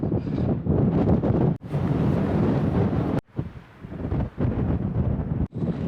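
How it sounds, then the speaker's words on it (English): Strong gusting wind buffets the microphone on an exposed hilltop along the Pennine Way, a loud, roaring rush that surges and briefly drops away between gusts. "the wind's definitely picking up now"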